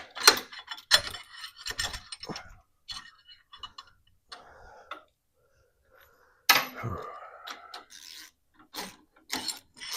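Ratchet tightening a bolt on a T-Rex Racing crash bar brace fitted to a BMW R1200GSA motorcycle, heard as short bursts of close clicking and metallic clatter separated by pauses.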